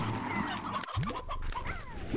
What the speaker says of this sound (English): just get the chicken and stuff.